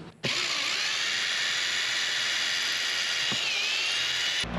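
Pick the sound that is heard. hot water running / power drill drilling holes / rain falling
power drill drilling holes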